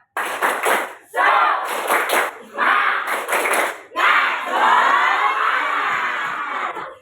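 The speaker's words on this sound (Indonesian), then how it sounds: "Tepuk semangat." A classroom of pupils does a rhythmic spirit clap (tepuk semangat), with several quick bursts of clapping in a pattern and then a long loud group shout, all close and energetic.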